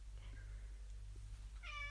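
A cat gives a short meow near the end, standing out briefly over a steady low hum and quiet room noise.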